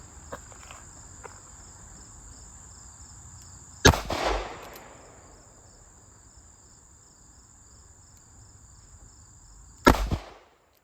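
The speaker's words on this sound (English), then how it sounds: "it's 5 shots of the 130 grain from about 7 yards" A revolver fires 130-grain rounds outdoors from about seven yards, two loud, sharp cracks spaced roughly six seconds apart over a steady, faint high-pitched insect-like whine.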